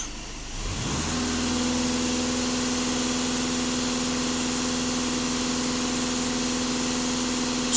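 A VW Passat B8 with a 150-horsepower diesel engine idles after a brief rev at the start, settling into a steady, even hum with a constant low tone, recorded close by without talk.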